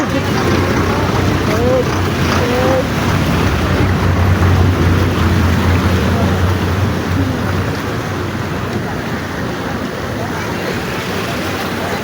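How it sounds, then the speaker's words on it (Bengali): Floodwater surges through streets swamped by heavy rain, a loud, steady rushing and sloshing that runs unbroken, with faint voices talking beneath it. "আস্তে আস্তে ঢেউ ঢেউ ঢেউ"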